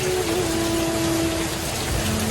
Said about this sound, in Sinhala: හයියෙන් වහිනවා